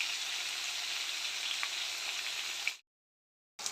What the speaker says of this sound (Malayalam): ഇതുകൂടി ഒന്ന് നമുക്ക് മീഡിയം ഫ്ലെയിമിൽ വെച്ച് നന്നായിട്ട് ഫ്രൈ ആക്കി എടുക്കാം